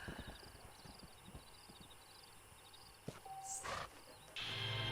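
Horse hooves clip-clop in Red Dead Redemption, a Western ranching video game, with a rhythmic run of hoofbeats in the first second or so, then scattered game effects and a rising ambient bed.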